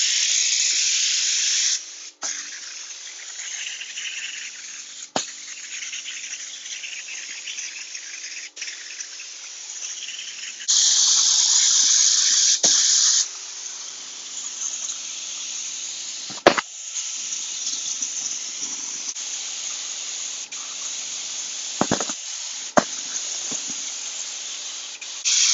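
EkoFill filler is sprayed onto a weave in repeated close, steady hissing bursts, some longer and louder, separated by short pauses and small clicks.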